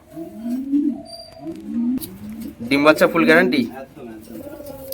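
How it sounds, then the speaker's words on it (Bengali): Black Lakka pigeons coo close by in repeated soft, rolling calls, while someone talks loudly over them. "ব্ল্যাক কালারের লক্কা পায়রা জাস্ট দেখুন আপনারা"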